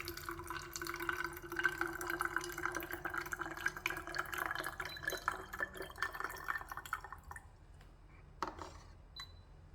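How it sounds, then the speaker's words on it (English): A baby formula milk dispenser pours about 80 ml of water in a thin, steady trickle for several seconds, then stops with a few faint drips and clicks, quiet and close. "I click water, and 80 ml of water is supposed to come out"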